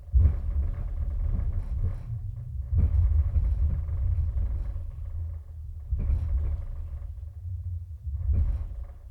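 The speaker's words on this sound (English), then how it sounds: "In this fight scene, there's a lot of rumbling, a lot of stuff that's gonna be blowing up here" Deep rumbling booms and roaring blasts from a movie fight scene with explosions and a grenade launcher, played loud through a home-theater subwoofer, swelling in several heavy waves of low-end rumble with no voices.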